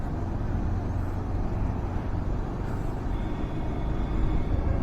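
Steady road traffic on an early-morning route toward Dilsukhnagar, with travelling buses and other vehicles passing in a continuous broadband rumble, heard from a moving Pulsar 220 motorcycle; no talking.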